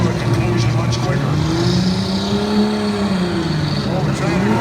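V-6 race cars on the track at the Dixie Classic Fair drone loudly, with engine pitch rising and falling as they circle, heard under an announcer's running commentary.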